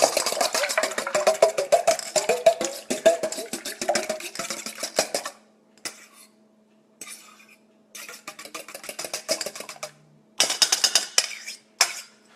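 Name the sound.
mixing food with a small fork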